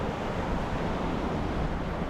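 Wild Atlantic Ocean surf rolling onto a quiet, uncrowded beach, a steady, loud wash of broadband roar with wind buffeting the microphone and no distinct breaks or voices.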